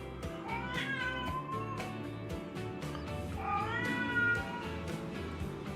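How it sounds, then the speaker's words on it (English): A pet cat meows repeatedly late at night in a home office, several rising and falling cries close to the microphone over a steady low background hum. "That would be my cat."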